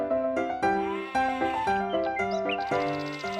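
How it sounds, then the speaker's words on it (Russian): An old goat bleats in a series of quavering, tonal cries with clear harmonics, several short calls following one another closely and fairly loud, with no voices over them. "Жила-была старая коза."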